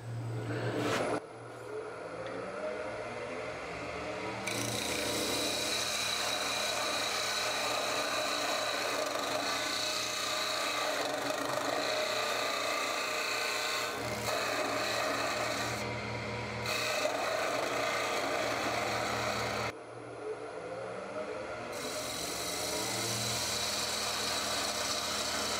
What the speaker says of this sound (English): you certainly can make aggressive, clean cuts with the spindle gouge